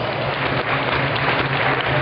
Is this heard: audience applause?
yes